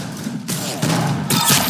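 Rapid bursts of gunfire from the online shooter game Arsenal, several sharp overlapping volleys that grow louder toward the end, with no talking over them.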